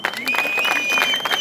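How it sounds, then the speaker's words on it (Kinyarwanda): A crowd at a Green Party political rally claps and cheers, producing a short burst of dense applause with a whistle-like tone running through it. "Amashyi menshi cyane."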